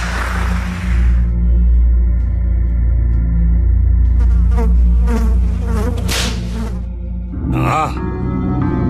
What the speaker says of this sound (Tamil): இந்த இடத்துல கொசு தொல்லை தாங்கல.